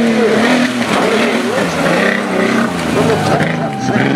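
An off-road tuff truck roars around a dirt track at a Labor Day festival race, its loud engine revving and surging steadily throughout, with crowd and announcer noise mixed in.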